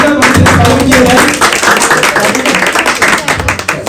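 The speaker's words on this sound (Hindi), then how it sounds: "जोरदार ताली से स्वागत किया जाए।" An audience at a political welcome event honouring Atal Bihari Vajpayee claps loudly and continuously, a dense close burst that slowly thins toward the end.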